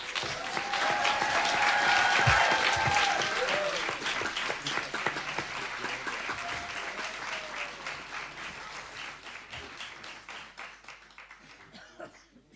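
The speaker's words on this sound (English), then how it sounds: "A little bit more applause." A large audience applauds at a live New Year's celebration, sustained loud clapping that swells early and then slowly thins toward the end, with a few scattered coughs.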